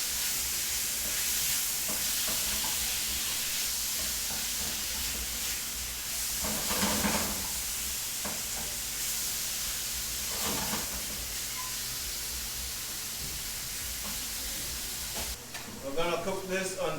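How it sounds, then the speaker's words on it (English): Chicken sears in a hot frying pan with a steady broadband sizzle throughout, briefly stirred and shifted around the pan, with a few louder bursts and some voices speaking faintly in the background. "while your frying pan is on and your chicken is searing"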